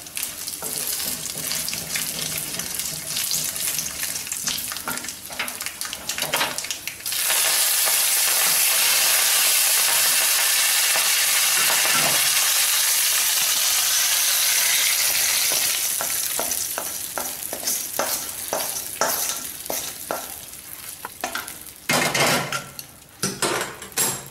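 Chopped red bell pepper sautéing in a pan for chutney, a loud continuous sizzle broken by repeated scraping and clinking of a spatula stirring against the metal, with a long unbroken frying hiss in the middle.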